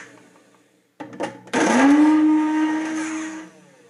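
A blender grinds dried home-grown chives into powder: a few brief pulses, then a loud, steady motor whir that holds for about two seconds before cutting off, close up with no talking.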